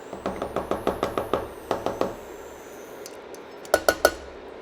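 A spoon or whisk stirring an ingredient into a mixture in a bowl, making a steady run of about a dozen rhythmic clinks against the bowl, then a pause and three more sharp knocks, close and fairly loud with no talking.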